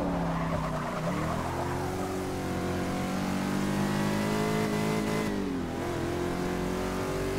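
Race car at Brands Hatch in Forza Motorsport 6, engine note climbing and dropping through gear changes with tire squeal, loud and continuous with no talking.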